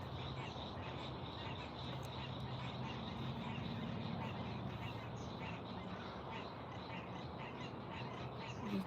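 A chorus of frogs calls continuously at a pond around sunset, a dense layered chirping and croaking that stays fairly even and moderately distant, with faint low voices occasionally beneath it.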